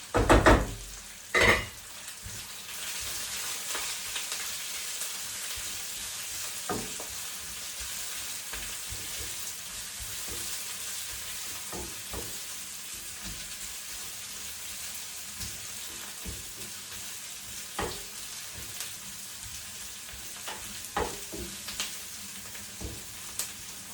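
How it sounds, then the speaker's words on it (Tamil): Garlic cloves sautéing in a pan for a snake gourd curry, a steady soft sizzle of frying with occasional clinks and scrapes of a utensil against the pan, heard alone without talk. "4 உள்ளி பல் எடுத்தேன்னா இப்போ அதையும் போட போகிறேன். போட்டுட்டு வதக்கி எடுக்க போகிறேன்."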